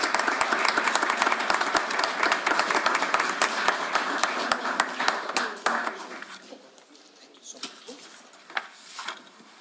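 Applause for students at a regular city council meeting, a dense burst of many hands clapping that thins out after about six seconds into a few scattered claps and quiet room noise.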